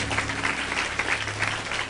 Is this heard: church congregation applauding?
yes